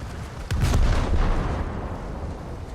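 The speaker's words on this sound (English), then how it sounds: "No, those are torpedo impacts." Torpedo impacts in a naval video game set on the French coast, heard as a heavy booming burst that lands suddenly and rolls on as a sustained rumbling roar, loud and close, with no voices.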